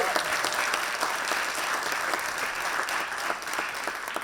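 An audience applauds steadily and densely throughout, a continuous wash of many hands clapping at a community leadership gathering, with no break or fade.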